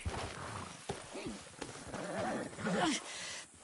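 A horse collapsing in a video game, with short whinnying, snorting cries and a few thumps over a low background, while voices talk.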